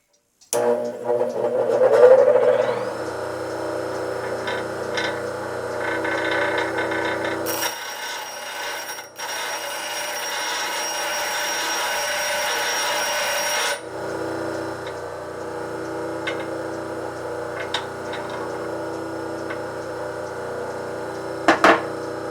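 Cedar being rounded over on a wood lathe, a steady scraping, rasping hum as the chuck spins, continuing evenly with a brief change in texture midway; no talking.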